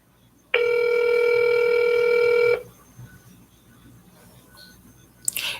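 Single sustained electronic telephone ringback tone lasting about two seconds and heard up close on an outgoing call, followed by quiet line noise and a brief click.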